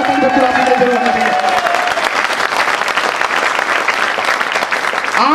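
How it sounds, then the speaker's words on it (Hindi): Loud audience applause fills a large seminar hall at a Safe Shop business meeting, dense sustained clapping and crowd noise close and continuous throughout, with faint voices mixed in at the start. "जोरदार ताली बंतू राम जी के लिए जरूर दीजिए"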